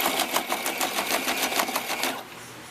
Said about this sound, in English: So I'm making sure I sew it on this side here.